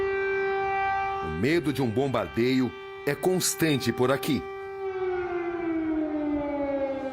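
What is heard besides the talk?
civil defense air raid sirens in Kyiv, Ukraine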